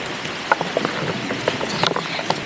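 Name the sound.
hail falling outdoors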